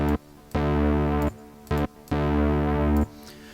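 A buzzy, sustained polysynth patch named 1804 from the Calf plugins Polysynths bank, playing held chords in three blocks separated by short gaps and a brief stab, loud and close, with no voices.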